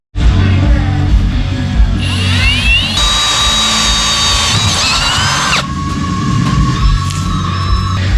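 A power drill bores holes into a steel spindle from a C1500 truck, a loud, close, continuous grinding whine whose pitch climbs and shifts as the bit bites and then settles, with no pauses.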